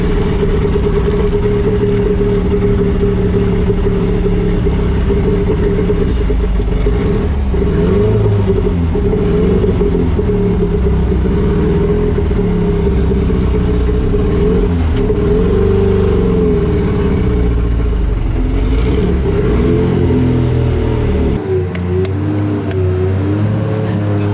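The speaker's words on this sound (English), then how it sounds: "The engine is doing very weird things. It works on 3 cylinders, sometimes on 2, sometimes fine." A car engine misfiring, running on two or three cylinders, sounds rough and uneven at close range, a steady rumbling idle with uneven revving and stumbling, continuing without pause.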